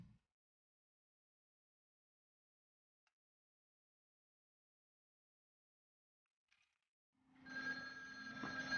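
A telephone begins ringing after a long near-silent stretch, its bell sounding continuously and fairly loud over the final second and a half.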